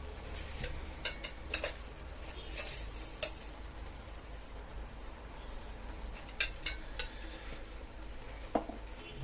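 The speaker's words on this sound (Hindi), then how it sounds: "इसे अच्छे से मिक्स करेंगे" Tomato chutney with jaggery and sugar gets stirred in a pan, with soft spoon scrapes and occasional clinks over a faint sizzle, fairly quiet and with no voices.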